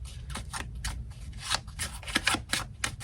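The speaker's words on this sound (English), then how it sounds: "let's pull some tarot cards and see what those say" Tarot cards being shuffled and pulled by hand, a run of quick papery riffles and flicks in uneven bursts, close and fairly soft, with no talking.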